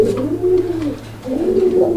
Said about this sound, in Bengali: দর্শক আমরা এই মুহূর্তে দেখতে পাচ্ছি এখানে চমৎকার আরো এক জোড়া কবুতরের কালেকশন রয়েছে